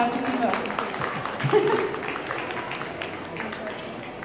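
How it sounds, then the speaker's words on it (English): Audience clapping at a horse demonstration at an agricultural expo, a steady wash of applause with a voice talking over it. "Round of applause if you like. Go ahead and clap if"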